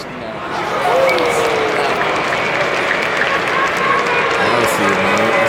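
A large stadium crowd at the NFL Draft Combine reacts to a 40-yard dash, a loud sustained roar and murmur with some scattered clapping, and voices talking over it.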